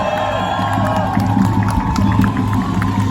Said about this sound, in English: Everybody, round of applause for Dr.